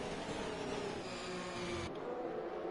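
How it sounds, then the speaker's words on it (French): Race car engine held at full throttle on the Spa circuit during a sim racing round, a steady loud continuous drone that cuts sharply in tone near the end. "le pilote est à fond dans cette partie du circuit"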